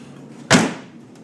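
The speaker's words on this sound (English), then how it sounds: "Doors do close nice." A car door on a 1984 Chevrolet Corvette swings shut in one solid, close thump, with a brief fading rattle after the impact.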